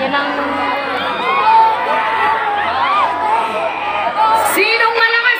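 A lively crowd of fans at a celebrity appearance shouts and cheers loudly and continuously, excited voices overlapping close by with a few whoops rising above the din.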